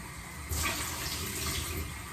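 Water rushing steadily into a pot or container while cooking meat and beets, starting abruptly and continuing as a close, even splashing flow.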